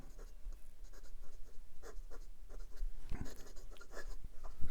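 Writing with a fountain pen fitted with a large 18 karat gold nib, giving soft, irregular scratching strokes on paper, quiet and close with small taps between strokes.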